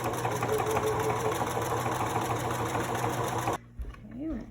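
A sewing machine stitches a fabric mask, whirring steadily and closely for about three and a half seconds, then stops and a voice speaks.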